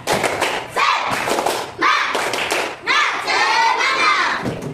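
A class of children performs a rhythmic spirit clap, loud close bursts of clapping and thumping in patterned groups with short pauses between them, while young voices chant along.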